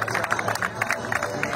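A crowd claps and cheers at a night cricket tournament event in Shanti Nagar, with fairly close, dense, steady applause mixed with murmuring voices for the whole stretch.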